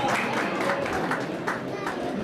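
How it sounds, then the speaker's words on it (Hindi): An audience at a district chess association closing ceremony in Chamba claps steadily in a sustained round of applause, moderately loud, with a voice speaking over it. "तालियां बजाते रहे प्लीज सभी खिलाड़ियों का।"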